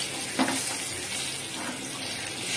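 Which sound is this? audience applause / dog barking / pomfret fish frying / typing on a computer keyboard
pomfret fish frying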